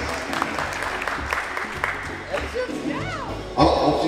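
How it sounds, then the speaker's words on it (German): An audience applauds at an event, scattered clapping rising under and between people talking, ending in a louder burst of cheering claps. "Ein Applaus bitte"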